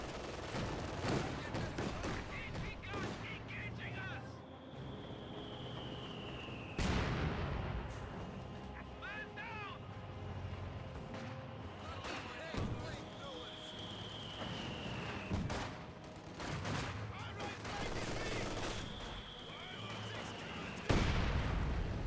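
Company of Heroes 2 battle: bursts of rifle and machine-gun fire crackle under a commentator's voice, broken by several loud, booming blasts including a grenade explosion, with quieter shots between.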